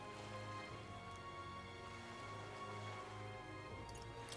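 Steady rain pours down continuously in the video game Metaphor: ReFantazio, a dense hiss of drops with a low droning background hum underneath.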